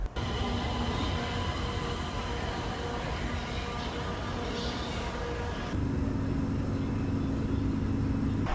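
Hefei subway train running, a steady low rumble with a continuous hum that shifts to a louder, tonal drone partway through as the train travels.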